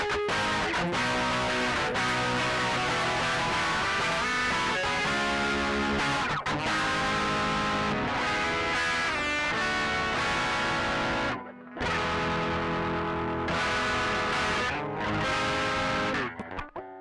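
Electric guitar rings out through a Twin Reverb amp model with strummed chords and sustained notes, punctuated by brief pauses, loud and close.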